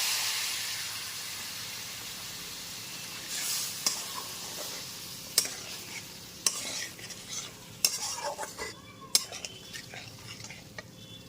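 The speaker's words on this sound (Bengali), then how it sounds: "গ্যাসের ফ্লেমটা লো টু মিডিয়ামে রেখে খুব ভালো মতো নাড়াচাড়া করে নিয়েছি" Gathi kochu (taro) curry stirred in a pan over low to medium flame, a soft continuous sizzle with a spoon scraping and clinking against the metal several times, close and alone.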